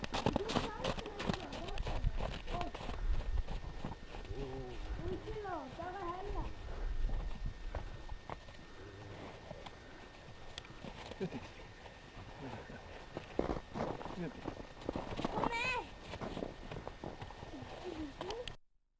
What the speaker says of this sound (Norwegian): Hesten var en araberhest som het Sandra